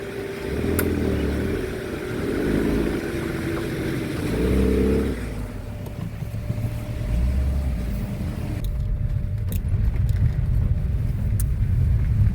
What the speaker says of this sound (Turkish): Oo nasıl bir traktör gelir?